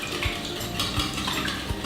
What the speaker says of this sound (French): C'est le moment de venir bien mélanger le tout.